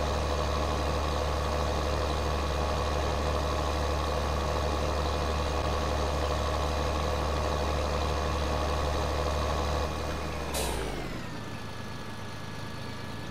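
A small tractor in the video game Farming Simulator 2013 gives off a steady, droning engine hum with a faint whine, constant at a moderate level, then the engine note drops and the sound thins near the end.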